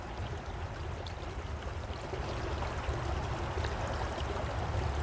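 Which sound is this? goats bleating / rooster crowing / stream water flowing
stream water flowing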